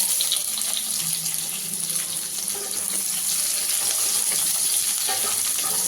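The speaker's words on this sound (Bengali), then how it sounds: "ফোড়নের মশলাটা ভালো করে ভাজা হয়ে যাওয়ার পরে আমি কাটা পেঁয়াজগুলো এর মধ্যে দিয়ে দেব" Chopped onions fry in hot oil with fried tempering spices, a steady, hissing sizzle, broad and continuous, close up, with a few soft stirring clicks.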